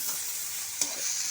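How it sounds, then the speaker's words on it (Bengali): Drumstick flowers frying with garlic and turmeric in hot oil, a continuous close sizzle with one brief stirring scrape. "হলুদ গুঁড়ো দিয়ে ভালো মতো করে একটু সজনে ফুলটাকে একটু ভাজা ভাজা করে নেব"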